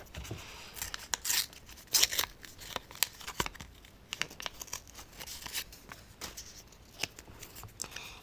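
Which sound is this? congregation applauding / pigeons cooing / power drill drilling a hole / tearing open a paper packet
tearing open a paper packet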